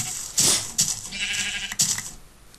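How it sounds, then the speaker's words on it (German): Brown sheep in the Minecraft video game bleating in a few short, bright cries, close and fairly loud, with no voices over them. "Oh, braunes Schaf."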